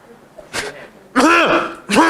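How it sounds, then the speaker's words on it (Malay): Three short throat-clearing bursts, close and fairly loud, the last two harsh and drawn out, separated by brief quiet gaps. "Berdehem daripada tandas Baitul Salam ni sampai kedai mamak bawah boleh dengar dia"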